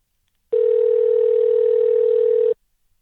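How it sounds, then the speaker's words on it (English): A single two-second electronic telephone tone, clean and steady with sharp start and stop, heard alone against silence. "Hey, we got our phone ringing,"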